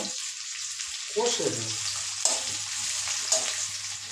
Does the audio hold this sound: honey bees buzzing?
no